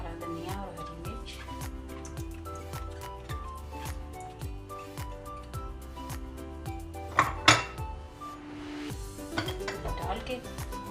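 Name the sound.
mixing spices, coriander and green chilli into potato mixture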